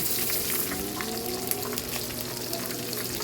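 Continuous crackling and sizzling of fish frying in hot oil, close and steady, with a low hum underneath.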